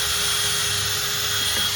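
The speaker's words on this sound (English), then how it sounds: "I like to pilot drill these just to make sure I get a nice little straight hole in there." A power drill pilot-drills a small hole into a composite fascia board on a finished deck, a steady high whine held for nearly two seconds at close range with no talking.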